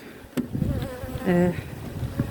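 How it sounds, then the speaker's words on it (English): A wasp buzzes close by near a beehive with a steady droning whine that swells loudly in the middle, alongside softer scattered bee hum and light handling noises. "And there's a wasp. Go away, wasp."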